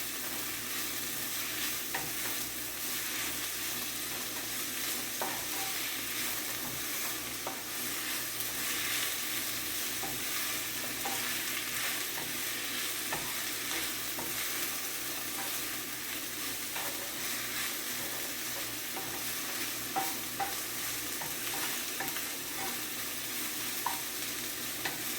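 King oyster mushroom and vegetables fry in a pan for a jerk mushroom wrap, with a steady, close sizzle and occasional stirring scrapes throughout and no talking.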